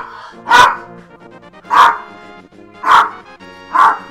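Dog barking indoors, four loud, separate barks spaced about a second apart, close by, with a faint tonal background between them.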